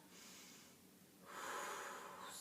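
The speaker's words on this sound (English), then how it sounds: "Okay, so we're going to inhale." Two long, deep breaths drawn in audibly during a prenatal workout, the second stronger and more rushing than the first, close and alone without any talking.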